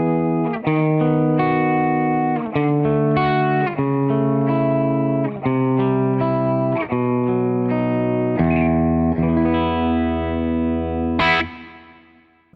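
An electric guitar played through an EMT 140 plate reverb plugin, with delays switched off, rings out in a series of sustained chords and notes, each one trailing a smooth shimmering tail, ending in a final struck chord that fades.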